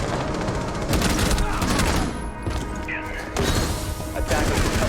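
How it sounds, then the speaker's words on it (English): A Nitro Cell detonating in Rainbow Six Siege during a professional esports match, heard as a dense, loud rattle of blasts and gunfire that keeps roaring for several seconds without a pause. "Nitro deployed. Nitro detonated."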